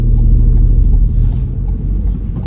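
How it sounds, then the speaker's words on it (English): A car on the road at a crossroads rumbles loud and close, a continuous low engine and tyre drone holding steady throughout without any speech. "There's a car coming now."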